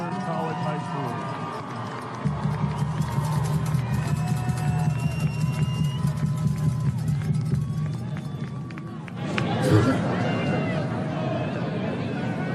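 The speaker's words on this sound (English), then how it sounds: "How about a round of applause for the 2023 Class 6 runners-up" Stadium crowd at a high school football championship final cheers and applauds the runners-up, a broad roaring wash of voices and clapping that swells partway through, with a loudspeaker voice audible over the noise.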